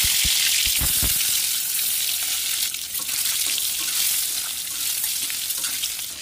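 Halved boiled eggs frying in hot oil in a pan: continuous bright, crackling sizzle at close range, with a few sharp pops near the start and a steady hiss throughout.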